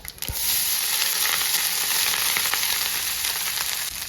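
Loud, steady sizzling of cooked rice dropped into hot tempering oil for Kerala-style rice upma, with a brief clink at the start and constant frying hiss throughout.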